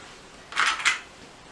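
Two quick plastic sewing clips snap onto a fabric band beside a zipper, two close, crisp clicks in a row with no talking.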